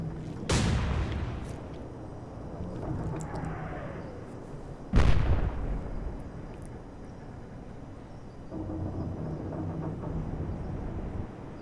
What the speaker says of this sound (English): We'll get a broadside out.